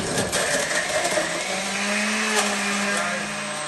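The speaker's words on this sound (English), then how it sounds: "let's move on to the blending" A blender whirs loudly and steadily close by, churning a green smoothie with a constant high-pitched motor whine.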